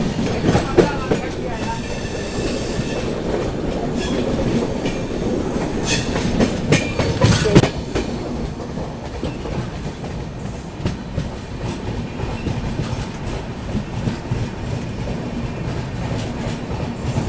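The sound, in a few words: Arunachal AC Superfast train passing through Mansi Junction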